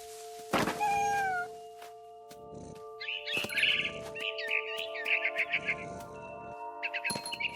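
A cat in the video game What Remains of Edith Finch gives a clear meow, followed by a series of bright bird-like chirps and trills, with a steady tonal hum running underneath.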